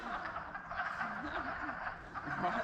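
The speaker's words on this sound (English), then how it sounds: "Got all kinds of frogs through here too." Frogs croak in a woodland pond in Maine, a busy chorus of quick chuckling calls, steady and moderately near, with low outdoor background noise.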